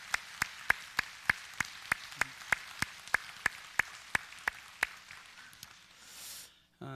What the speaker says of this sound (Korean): 우리 잠깐 박수로 한번 위로하겠습니다.